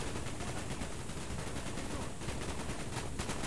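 Dense, continuous gunfire from Call of Duty: Black Ops gameplay, a steady roar of automatic shots and blasts filling the whole stretch at an even, loud level with no voices.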